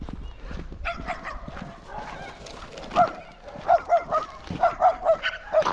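A pack of dogs barks outdoors, with several sharp barks in a quick uneven series growing louder toward the end, over low background noise.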